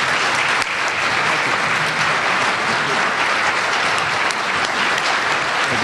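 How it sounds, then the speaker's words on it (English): Loud, continuous applause from a convention crowd for Governor Deal as he departs, a dense roar of clapping sustained at full level without pause. "Let's give him one more round of applause as he walks out."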